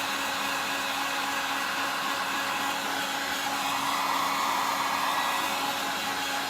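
Heat gun shrinking a wrap grip onto a knife handle, a loud, steady blowing roar that holds unchanged throughout with no speech.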